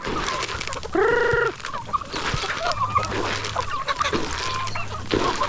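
Free-range chickens cluck on a farm with turkeys and geese nearby, a loud drawn-out honk or squawk standing out early among scattered nearby clucks and farmyard noise.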